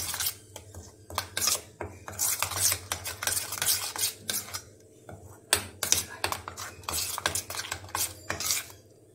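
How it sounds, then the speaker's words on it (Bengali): A utensil stirs a tangy recipe paste in a dish, with a quick, irregular run of close scraping strokes and light clinks against the bowl, and no voices. "এটাকে আমি এবারে ভালোভাবে মিক্সড করে নিচ্ছি।"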